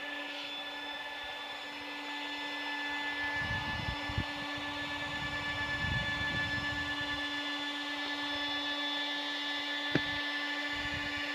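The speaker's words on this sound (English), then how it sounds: "At the put-in site, blowing up our tubes, getting ready for the expedition." A pump inflates river tubes at a tubing put-in site, a steady droning whine with a strong sustained hum running throughout, under brief rustling handling bursts and a couple of sharp knocks, heard up close without talk.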